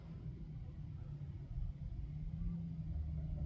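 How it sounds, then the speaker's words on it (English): A fire truck engine idling right nearby beside a fire station, a steady low rumble that swells slightly partway through, with no siren. "Well, there's a fire truck right here."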